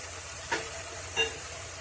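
Spice paste for fish kalia being stir-fried in a pan with coriander powder, giving a low, steady sizzle broken by two soft scraping strokes.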